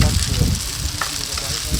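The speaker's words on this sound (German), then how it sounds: "Nudeln brutzeln." Noodles sizzle and crackle as they fry in a pan during camp cooking alongside egg and ham, a close, steady hiss with light stirring noises.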